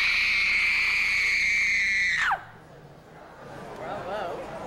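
A performer delivers a long, piercing horror-movie scream, held at a steady high pitch for about two seconds before sliding sharply down and cutting off, leaving a quieter voiced murmur afterward.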